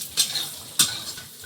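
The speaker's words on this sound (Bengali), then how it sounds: "বড়িটাও একটু ভেজে নিচ্ছি।" Bori, small sun-dried lentil dumplings, fry in hot oil in a kitchen pan, giving a soft sizzle with two sharp scraping strokes of a spatula in a short stretch.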